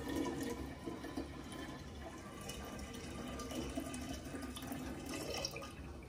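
Juice from pressed apple pomace drains through a strainer during apple and hops wine making, a continuous trickling and splashing flow that stays fairly even and close, with no voices.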